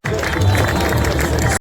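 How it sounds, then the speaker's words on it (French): Crowd at a Granfondo Trophée Vosgien cycling award ceremony applauds, a short burst of dense clapping and cheering with background chatter, loud and close. "Applaudissements pour notre trophée."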